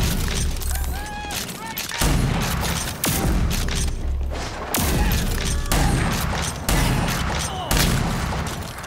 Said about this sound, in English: Just keep shooting till you get them.